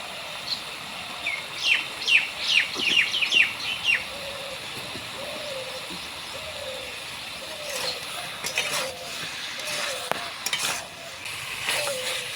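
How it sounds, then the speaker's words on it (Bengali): Red amaranth greens with turmeric stirred in a frying pan, a soft steady sizzle with scattered scraping strokes, while bird calls and repeated cooing sound in the background. "ভালোভাবে নেড়ে চেড়ে নিচ্ছি হাফ চামচ হলুদ গুঁড়ো"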